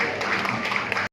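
Applause for the winners at a para sports and swimming championship day in a university sports hall, a dense steady patter of hands filling the space for just over a second before cutting off.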